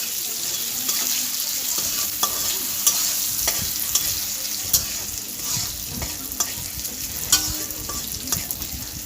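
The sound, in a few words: stirring mourola fish with salt in a pan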